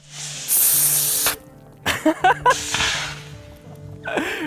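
A shaken soda bottle sprays: a loud fizzy burst for about a second, then a few sharp hissing spurts and a longer foamy release, with a brief final gush.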